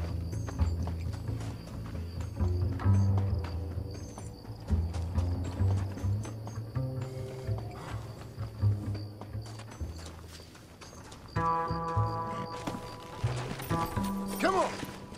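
Horse hooves clip-clop steadily in Red Dead Redemption, a rhythmic gait running throughout alongside game music and ambient effects, with occasional speech.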